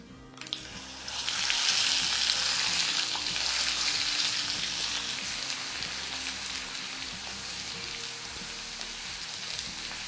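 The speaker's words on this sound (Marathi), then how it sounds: "हे छान तेल सुटेपर्यंत परतून घ्यायचा" Spiced masala with turmeric, coriander and cumin powder sautés in oil for soya masala, starting with a sudden hiss as it hits the pan and settling into a continuous close sizzle that slowly eases off.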